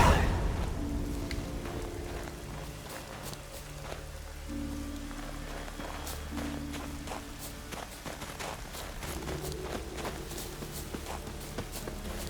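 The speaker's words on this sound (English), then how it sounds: "Looks like rain." Steady rain patters down in the fantasy game Witcher 3: Wild Hunt, a constant wash of drops with scattered sharper taps and footsteps, while low sustained music tones hum underneath throughout.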